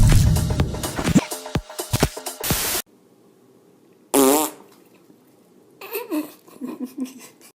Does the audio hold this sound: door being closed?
no